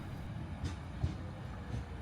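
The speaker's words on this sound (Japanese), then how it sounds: "列車が私の前を通り過ぎていき、これでブルーラインパークとはお別れです。" A train pulls away from the station at Blue Line Park in Busan, its wheels giving a soft rumble with a few faint clicks on the rails. The train sounds fairly distant and no one speaks.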